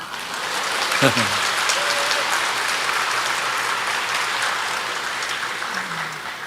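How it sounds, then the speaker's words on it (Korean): A congregation claps for their pastor during a Sunday sermon, with loud, dense applause that is steady throughout and a brief voice rising over it near the start. "여러분의 담임 목사님을 응원하는 박수를 보내야 합니다"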